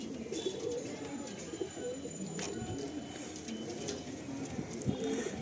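Andhra pigeons coo in a loft among Madrasi-type birds, a soft, continuous murmur of low cooing with a few higher chirps over steady background noise, close by and fairly even in level.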